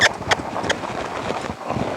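Hooves clop on hard ground in an uneven, shuffling rhythm, fairly close, with a few sharper knocks early on and low rumbling movement throughout.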